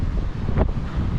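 Strong wind blows over a boat at sea, buffeting the microphone in rough, low gusts over a brief span. A short whooshing surge stands out midway through.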